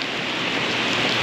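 Steady rain falls in a dense, even hiss, close and continuous for a short stretch, with no talking heard.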